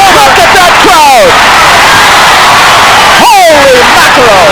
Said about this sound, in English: Oh, look at that crowd.